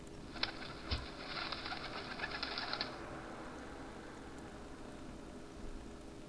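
Pigeon-like bird in an adventure video game, a burst of fluttering wing flaps and soft cooing for about three seconds, fading into quiet room tone.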